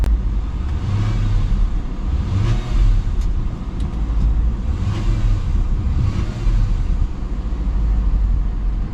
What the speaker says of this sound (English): Let's give her a little gas here.